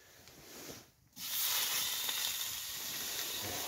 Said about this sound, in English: Oh, sizzling.